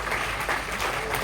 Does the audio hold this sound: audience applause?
yes